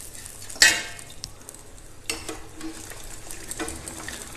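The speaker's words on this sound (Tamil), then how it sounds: "இப்போ இந்த சூடான எண்ணெயில் நம்ம செஞ்சு வச்சுருக்கிற இந்த பேட்டிஸை பொரிச்சு எடுத்துடலாம்." Veg burger patties deep-fry in hot oil in a kadai, giving a soft steady sizzle, with a sharp metallic clink near the start and a few lighter utensil taps and stirring sounds afterward.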